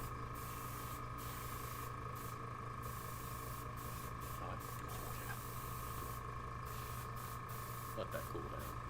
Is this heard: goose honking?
no